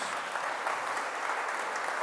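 A church congregation claps together in a steady, dense round of applause that holds at an even level throughout, with no voices standing out.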